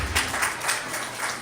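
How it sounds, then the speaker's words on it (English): Scattered audience applause at a behavioral health prevention talk, moderate and somewhat distant, swelling in a few soft waves over a brief stretch. "you can clap for that, yes."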